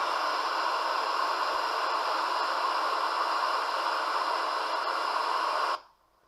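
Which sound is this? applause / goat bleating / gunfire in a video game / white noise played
white noise played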